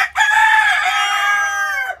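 A rooster crows once in a loud, close, sustained call with a rising start and a drawn-out, trailing end, heard on its own.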